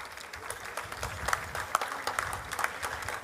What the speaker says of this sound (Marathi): जोरदार टाळ्या पुन्हा एकदा त्यांच्यासाठी.